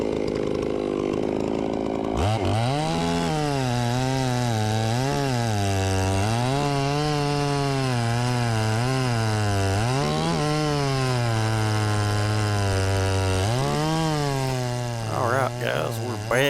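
Ported Farmertec Stihl MS660 chainsaw running on an Alaskan mill, milling logs into lumber: loud, continuous engine roar with rising and falling pitch as the throttle and load shift, close and unbroken after a sudden start.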